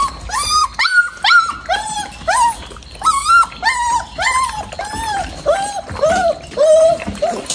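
Several puppies whimper and yip in a steady run of short, high, rising cries, close and loud, while they eat.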